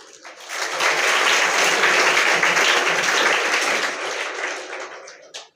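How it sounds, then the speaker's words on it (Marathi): An audience at a humorous speech bursts into loud, sustained applause that holds steady for several seconds before tapering off, ending with a few final claps. "पोरीने टाळ्या वाजले"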